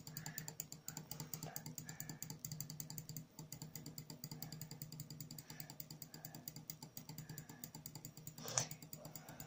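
A computer mouse or keyboard clicks during a Roblox game, giving rapid soft taps in a steady run over faint background hum, with one louder click near the end and no voices.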